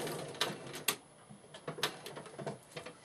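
A sewing machine stitches during free-motion quilting with quiet, sparse mechanical clicks and taps at uneven intervals, close by and without voices.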